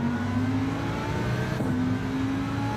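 Race car engine in a racing video game, a steady, moderately loud mid-pitched drone with a slight rise in pitch, heard alone for about three seconds.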